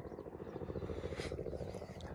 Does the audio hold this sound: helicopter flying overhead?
yes